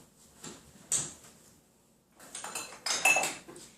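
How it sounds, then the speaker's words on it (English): A spoon clinks and scrapes against a bowl as tomato basil soup made in a microwave is stirred, in short close bursts separated by a quiet pause. "And you give it a good stir"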